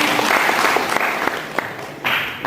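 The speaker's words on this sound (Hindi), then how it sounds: "मामा जी के लिए तालियां" Many hands applaud for mama ji in a live audience, with the clapping loud and sustained, dipping briefly before swelling again near the end.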